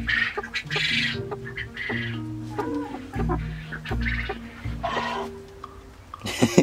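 Broody hens cluck in a low, repeated, murmuring chorus at close range, with a few sharper calls and squawks breaking in amid steady poultry-house chatter.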